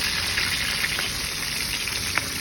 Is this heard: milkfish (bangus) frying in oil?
yes